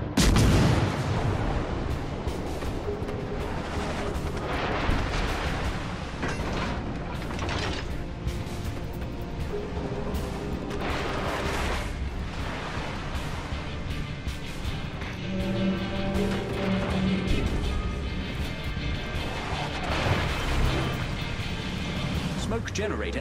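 Naval gunfire from warships in World of Warships: Legends: a busy battle mix of booming shots, mechanical clanks and ratcheting turret sounds, with game voice callouts over it throughout.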